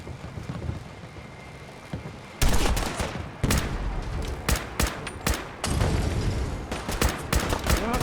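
Bursts of gunfire from a defensive firefight against Gulpers in Fallout 4's Far Harbor expansion, loud and close, with rapid irregular volleys and single sharp shots stacking up after a quiet, foggy lead-in.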